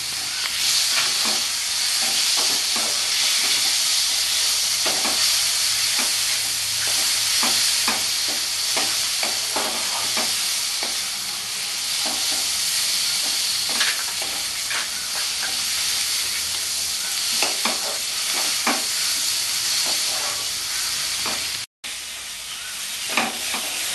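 Tomato goes into fried spices in a hot pan for a Bengali raw jackfruit and prawn dish, producing a loud, steady sizzle with frequent spatula scrapes and knocks throughout, briefly cut off near the end.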